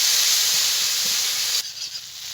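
Spice paste with salt and turmeric sizzles and hisses loudly in a hot pan, a bright steady frying crackle that drops suddenly quieter near the end, with no talk.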